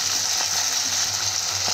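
Potatoes sizzle loudly in hot oil in a pan, sautéed with tomatoes for a rohu fish curry with peas, a close, continuous frying hiss with faint stirring clicks.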